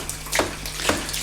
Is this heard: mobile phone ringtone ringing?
no